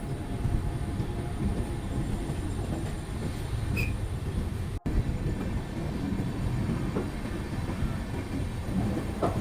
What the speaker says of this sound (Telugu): మేమైతే చివరి బోగిలో ఉన్నాం కాబట్టి మాకైతే ట్రైన్ ఫుల్ వ్యూ అయితే కనిపిస్తుంది ఇలాగా.